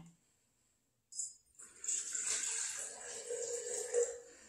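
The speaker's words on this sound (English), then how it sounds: "we're going to take this mason jar and put this white vinegar in it." White vinegar is poured into a glass mason jar, a splashy liquid trickle and gurgle starting abruptly after a second of near silence and continuing close for a few seconds.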